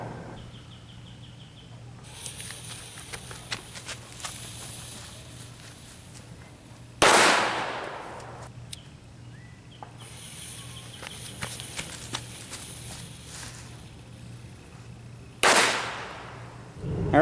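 M60 firecrackers tucked between PALS webbing and nylon bag material go off outdoors, two sharp loud blasts several seconds apart, each followed by a brief crackling decay over a quiet background hiss.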